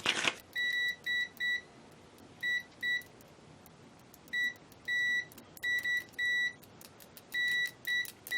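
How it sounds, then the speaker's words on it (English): Continuity buzzer on an Extech MN62 digital multimeter beeping in a series of short, bright electronic tones, some clipped and some held longer, in irregular bursts as the probes make and break contact, with no talk. "Let's check the continuity buzzer right now."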